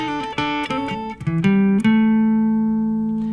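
An electric guitar plays a blues double-stop lick in A, with a few quick plucked and bent notes that settle into a sustained ringing double stop that slowly fades. The phrase is played solo and clean, with no talking.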